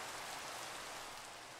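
Steady Minecraft rain falls at night, a dense, even hiss of raindrops with no other sounds over it.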